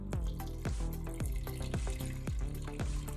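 Water poured into a cooking pot of mutton with onion paste and ginger-garlic paste, a steady gurgling splash with rhythmic glugs throughout, close and fairly quiet.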